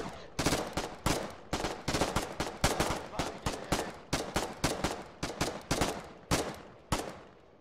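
Steady, close gunfire in the war game Foxhole cracks out as a run of sharp rapid bursts, evenly spaced and loud throughout.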